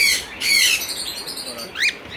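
Tame birds at a bird farm squawk and chirp harshly close by in a few bursts, with another sharp call near the end over a faint background hiss.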